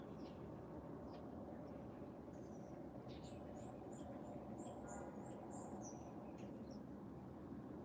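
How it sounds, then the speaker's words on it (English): Scattered bird chirps and short calls ring out over a steady low rumble of outdoor background noise, fairly faint and distant. "All I hear is the birds."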